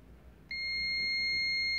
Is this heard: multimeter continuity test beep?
yes